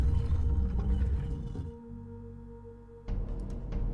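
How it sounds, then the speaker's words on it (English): A vaguely whale-like ambient sound effect from the video game Riven: low, droning tonal hums that hold steady, then shift and swell again, with no speech over them. "And instead of whale noise, vaguely whale noise"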